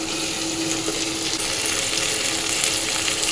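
Ivy gourd (kundru) fries in a pan with a little sugar, giving a steady, close, continuous sizzle with faint stirring sounds and no voices.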